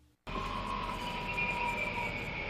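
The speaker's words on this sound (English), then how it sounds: "This is the sound of the motor powering the regenerative brake." A Toyota Prius electric motor working as a regenerative brake while the car slows, giving a steady electric whine with sustained high tones over a low hum, starting abruptly after a brief quiet moment and running continuously.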